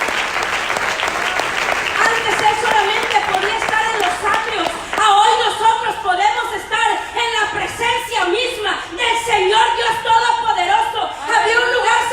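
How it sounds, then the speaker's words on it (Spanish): A church congregation applauds during a service, sustained clapping mixed with music, a vocal line and scattered chatter and chuckles across the full stretch. "Denle ese aplauso al Señor."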